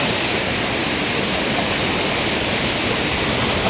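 Mimbalot Falls waterfall in Iligan City roars as a steady, loud, dense wash of falling water with no breaks, heard close and alone.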